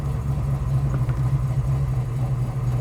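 A red 1970 Chevrolet Chevelle's V8 rumbles steadily at low speed while rolling over a speed bump, a deep continuous engine drone close up with no talking.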